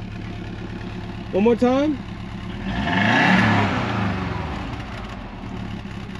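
A 1997 Subaru WRX turbo with all-wheel drive idles, then its engine swells in a single rev that rises and slowly falls back to idle. Someone speaks briefly just before the rev.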